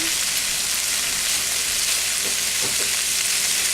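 Two packs of bacon frying in a pan, a dense, steady crackling sizzle that stays loud and close the whole time, with no talk.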